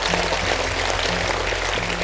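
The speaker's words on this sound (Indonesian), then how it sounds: "Tepuk tangan untuk Anda." An audience at an Islamic talk claps together in a dense, steady wash of applause that holds evenly for a couple of seconds.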